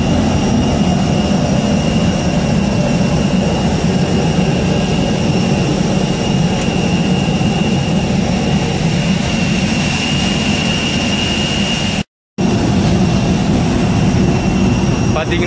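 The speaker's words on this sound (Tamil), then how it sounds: "இன்ஜினோட சவுண்டை பாருங்கள், பயங்கர சவுண்டாக கேட்குது" An Air India airliner's jet engine roars steadily at an airport in Saudi Arabia, a loud continuous whine and rumble with faint talk beneath it, broken only by a brief dropout near the end.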